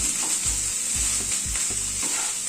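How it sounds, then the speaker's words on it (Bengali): Beetroot sizzles and fries in an oil-filled pan for a prawn and beet chop, with a steady hiss and periodic stirring scrapes about every half second, and nobody speaking. "এবার বিটটাকে একটু কষিয়ে নেব।"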